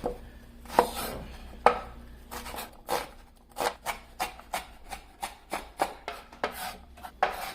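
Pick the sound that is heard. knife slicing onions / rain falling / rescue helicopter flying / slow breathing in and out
knife slicing onions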